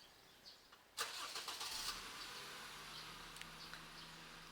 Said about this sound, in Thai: คุณสามารถที่จะสตาร์ทรถได้จาก Remote